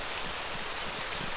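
Rain pours steadily in the video game Arma 3, a dense continuous hiss with no voices or other sounds breaking through.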